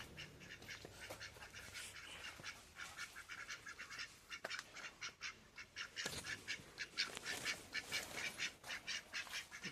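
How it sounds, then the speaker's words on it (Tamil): Quiet, rapid quacking from a group of ducks, coming in repeated bursts that grow busier and louder toward the end. "வாத்து பாருங்க இங்கே இருக்குது"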